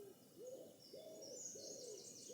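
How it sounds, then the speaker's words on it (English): An owl gives a series of four soft, evenly spaced hoots. The calls are faint and distant over a quiet background, with some faint higher birdsong behind them. "And the owls, typically I hear them in the depths of winter."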